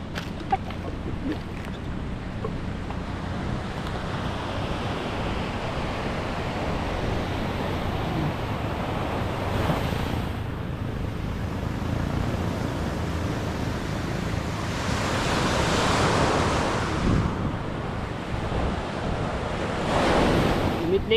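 Ocean waves surge in toward the shore with steady wash and swell, a couple of louder breakers rising near the end, mixed with gusty wind buffeting the microphone.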